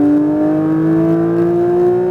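Porsche 992 911 GT3 accelerating on a race track, a loud, smooth engine note rising steadily in pitch as revs climb, heard close from inside the car.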